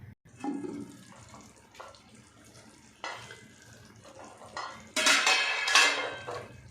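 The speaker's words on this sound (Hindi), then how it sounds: "अब मैं इसको ढक देती हूँ स्लो आंच पे" A cooking pot of spiced potatoes on the stove clatters with metallic knocks as a lid goes on, followed by bursts of running tap water and clinking dishes, close and intermittent.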